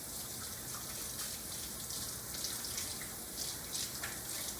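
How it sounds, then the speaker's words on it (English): Tap water running steadily into a sink while soapy hands are rinsed, a soft, continuous hiss and splash at moderate distance with no talking. "stick your hands back under the water and wash all that soap off"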